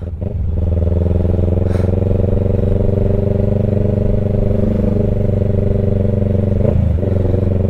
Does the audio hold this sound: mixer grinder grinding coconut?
no